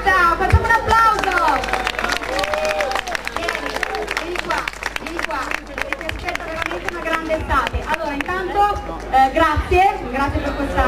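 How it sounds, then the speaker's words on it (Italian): An audience at a burlesque show applauding and cheering, dense steady clapping mixed with crowd babble and loud voices talking over it throughout. "eccolo, Fabrizio Gatta, facciamo un applauso."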